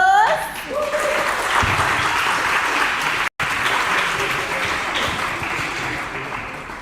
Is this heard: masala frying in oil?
no